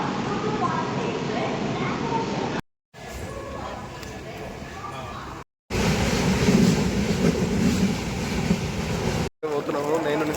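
A train runs toward Lingampally railway station, its steady rumbling rail noise and faint clatter continuing under talking, broken by a few brief gaps.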